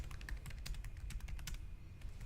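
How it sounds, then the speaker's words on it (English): Typing on a computer keyboard close to the microphone, a quick irregular run of sharp key clicks over a low background hum. The keystrokes ease off toward the end. "was just typing."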